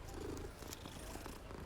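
A cat purrs in the video game Hogwarts Legacy, a soft, steady, low rumbling purr heard alone at quiet volume with no talking.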